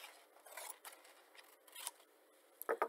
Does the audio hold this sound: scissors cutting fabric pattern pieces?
yes